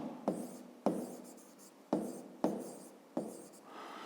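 A pen scratches out a school maths solution on paper in five short, distinct strokes, each starting with a sharp attack and then trailing off, close and quiet.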